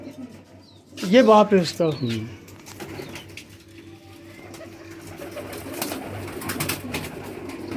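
Pigeons suited for teddy-style breeding coo at a keeper's setup, soft layered calls running under a voice that speaks briefly near the start, with light chirps later.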